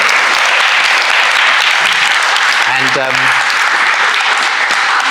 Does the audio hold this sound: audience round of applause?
yes